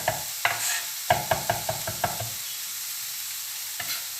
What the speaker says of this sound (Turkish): Ve sarımsağımı da içerisine attım.